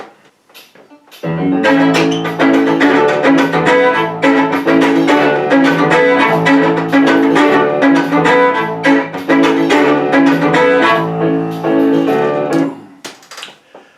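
A lively fiddle rendition of the Top Gear theme tune, played over a full backing track, steady and continuous at close range, with no talking.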